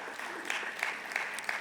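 An audience at a spring convocation claps for a new campus child care center, a short, moderately quiet patter of hands with faint voices and a few whoops rising over it.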